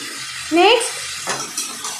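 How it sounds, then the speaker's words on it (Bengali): Chicken frying in a pan gives off a steady low sizzle, broken by a short squeak and a few clinks and scrapes from stirring. "চিকেনটাকে ভাজছি আগে, ভেজে নিই চিকেনটাকে"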